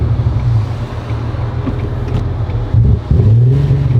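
A supercharged Acura NSX engine running badly with a heavy misfire, its low uneven rumble stumbling and surging, loud and close with wind buffeting the microphone.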